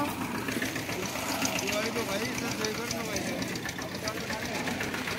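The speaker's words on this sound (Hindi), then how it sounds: "एक सिलेंडर ट्रैक्टर है वो।" A single-cylinder tractor engine runs at a tractor tug-of-war, chugging with a fast, rough knocking beat under loud outdoor crowd noise and voices, steady throughout.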